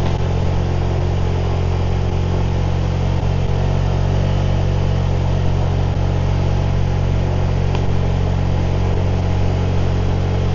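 A car engine hums steadily while climbing a steep hill on a Koh Samui road at about 32 km/h. The drone is continuous and even, with a faint rise as the driver accelerates, and no one speaks.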